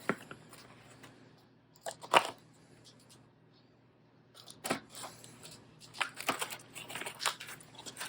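Plastic packaging around a budget desk chair's gas cylinder being cut open, with scattered crinkling and snipping bursts that come and go, quiet gaps between, and a busier cluster of rustles near the end.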